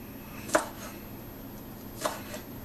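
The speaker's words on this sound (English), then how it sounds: "we're just going to chop ours up" Two crisp knife chops on a cutting board as hot peppers are cut up for a pepper mash, separate sharp strikes about a second and a half apart, close and alone with no talk.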